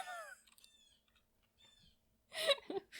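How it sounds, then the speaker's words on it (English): A bird calls loudly just outside a window: a few bright chirps at first, a quieter stretch, then a sudden loud burst of harsh, close calls at the end. "I'm sorry, there's a bird outside my window."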